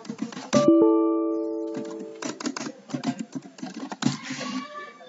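Fingers tapping a computer keyboard, bursts of quick, close clicks with short pauses between them, plus a brief electronic tone near the start.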